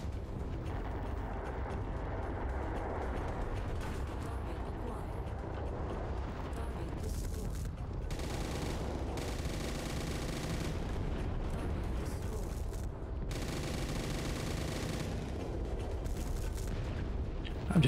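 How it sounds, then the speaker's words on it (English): Mech weapon fire ricochets off the cockpit in MechWarrior 5: MercTech, a steady loud barrage of clanking, rattling impacts and mechanical grinding that continues throughout, with intense bursts partway through. "the sound of the... just the thing ricocheting like that against your cockpit and elsewhere"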